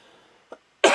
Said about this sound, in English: Excuse me, I just had to cough there.